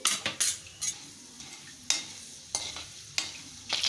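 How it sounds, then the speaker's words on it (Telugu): Mustard seeds, cumin, chana dal and urad dal fry in a couple of spoons of oil in a kadai, a soft sizzle broken by about eight sharp stirring scrapes and clinks of a spoon against the pan. "ముందుగా ఆవాలు, జీలకర్ర, శనగపప్పు, మినపప్పు వేసుకోవాలి."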